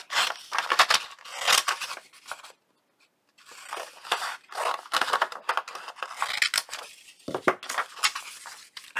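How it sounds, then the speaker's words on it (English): Scissors snip through paper while cutting out a craft belly band, a series of close, crisp cuts and rustles in short bursts separated by brief pauses. "Let me get this cut out."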